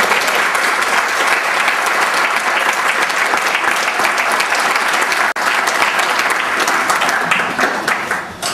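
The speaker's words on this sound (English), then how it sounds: "they deserve a nice round of applause." Loud, sustained applause from a banquet audience honoring waitresses and cooks at a senior sports banquet, dense steady clapping throughout that tapers off near the end.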